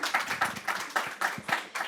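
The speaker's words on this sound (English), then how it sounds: "I feel like that just deserves a round of applause there." A small audience gives a brief round of applause at a talk on gender, health and climate, with dense, close hand claps in a steady patter lasting two seconds.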